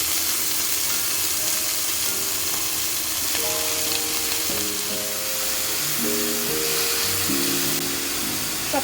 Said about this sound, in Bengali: এখন আমার মশলাটা ভাজা হয়ে গেছে, পেঁয়াজ রসুন কাঁচা লঙ্কা শুকনো লঙ্কা। আর আমি শাকটা দিয়ে দেবো।